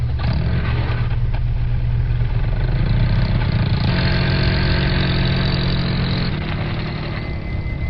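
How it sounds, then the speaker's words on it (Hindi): A cartoon jeep engine rumbles steadily as the vehicle drives forward, a continuous mid-pitched motor drone with a slight lift in intensity partway through. "फिर सॉन गाड़ी को आगे ले जाता है।"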